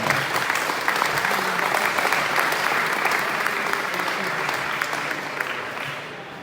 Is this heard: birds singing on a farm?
no